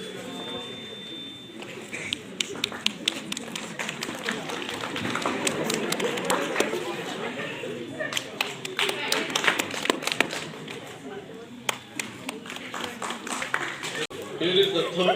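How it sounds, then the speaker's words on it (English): An audience at a school prize distribution for half-yearly exam results claps: scattered, uneven hand claps that swell into brief rounds of applause under a steady room murmur, fairly faint. "please clap your hands, okay?"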